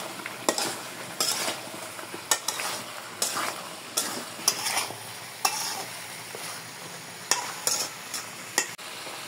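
Ridge gourd with spices being stirred and fried in a pan, giving a steady sizzle under a series of sharp spoon scrapes and clanks against the metal at an irregular rhythm, with no talking.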